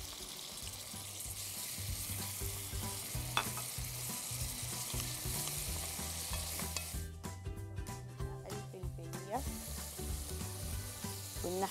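Onion frying in oil in a pan, a steady sizzle with occasional stirring clatter and brief utensil knocks throughout.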